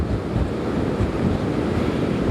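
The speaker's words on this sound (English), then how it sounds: "Yes, it is definitely windy." Strong wind roars steadily across the microphone at Jennette's Pier in Nags Head, with ocean surf washing underneath in a constant, loud, unbroken rush as a hurricane passes offshore.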